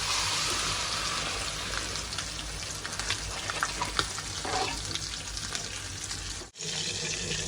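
Water poured into a pan of frying chicken, a loud hissing sizzle and bubbling with splashy pouring that stays steady and close, then briefly cuts out near the end before resuming.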